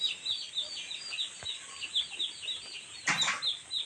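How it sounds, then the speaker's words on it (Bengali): Chickens crowded together on a poultry farm, many birds peeping and clucking continuously at close range, with a brief burst of wing flapping near the end. "দেখুন সবগুলা মুরগি একই জায়গায় জমট বেঁধে রয়েছে একই জায়গা।"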